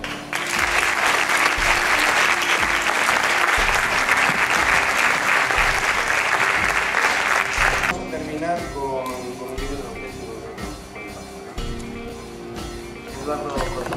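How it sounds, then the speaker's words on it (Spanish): An audience breaks into loud, dense applause at a talk about Radio La Colifata. The clapping fills the first eight seconds, then thins into scattered claps as a voice begins speaking over the tail. "Les un fuerte aplauso para él."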